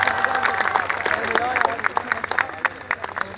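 An audience at a PGC Multan welcome event claps together, a dense patter of hand claps mixed with voices talking over it.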